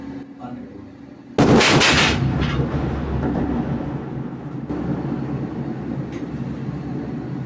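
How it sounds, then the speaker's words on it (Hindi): A massive explosion levels a village in news footage, heard as a sudden loud blast followed by a long, heavy rumbling roar that stays loud to the end, with faint voices beneath. "पूरे गांव को एक धमाके में इजरायल ने उड़ा दिया"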